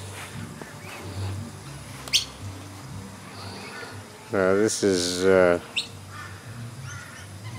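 Birds nest in the roof of a house at a bird sanctuary. Short chirps are followed by two loud, harmonic calls midway, over a low steady background hum, and a person speaks briefly.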